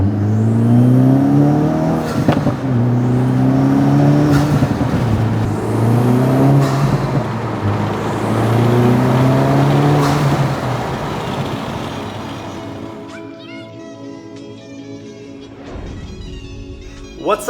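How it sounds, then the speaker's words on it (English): An Acura Integra Type S fitted with a Milltek exhaust revs loudly and close by in repeated rising sweeps, then drops to a lower, settled idle near the end. "I feel like the exhaust is a few notches louder"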